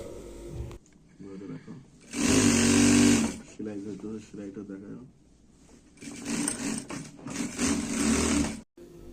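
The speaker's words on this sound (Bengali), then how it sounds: "আমি নিজেও সেলাই করতেছি" Tailor's sewing machine stitching matching panjabi garments for madrasa students, heard in loud, close bursts of whirring that alternate with someone talking over a faint background hum.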